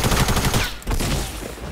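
Sniper fire in a Fortnite battle, loud sharp shot cracks with rolling echoes, a dense volley followed by a brief gap and further reports.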